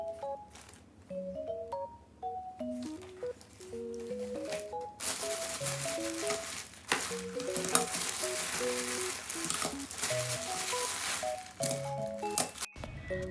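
Indonesian rupiah coins tip out of a plastic box in a dense metallic rattle and clatter lasting several seconds, heard over soft background music.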